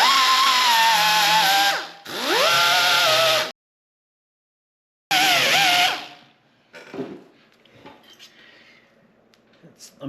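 An angle grinder with a grinding disc cleans rusty metal on a 1966 VW Beetle Convertible during heater channel and support rail replacement, sounding as loud, close bursts of high whining grind separated by pauses, then fading into quieter clatter.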